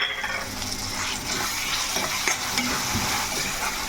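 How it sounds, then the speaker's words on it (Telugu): Masala fries in a pan for chicken curry with drumsticks while being stirred, a loud, steady close-up sizzle with scraping stirs and occasional crackles, with no one talking. "మసాలా వేసుకుందాము."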